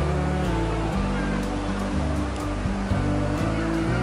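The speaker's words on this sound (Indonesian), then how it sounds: "Tadi ombaknya lagi gede banget karena masih siang." Ocean waves break on Ngobaran beach in the daytime surf, making a steady, loud roar of wash that fills the whole stretch without clear pauses between breakers.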